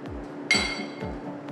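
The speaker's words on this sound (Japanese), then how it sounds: "燃えた吸い殻の熱でガラス製の灰皿が割れてしまいました。" A glass ashtray filled with burning cigarette butts cracks from the heat, giving one sharp, bright crack with a short ringing tail, close and isolated against faint background thumps.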